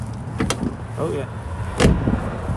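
The automatic rear door of a 2022 Land Rover Defender 110 X-Dynamic SE closes and locks with motorized whirring and a firm latch thud, close up against steady background noise.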